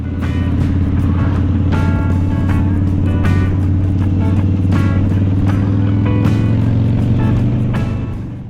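Harley-Davidson motorcycle riding along an open road in the rain near Te Aroha, its steady loud engine drone continuous and close, with faint rhythmic ticks layered over it.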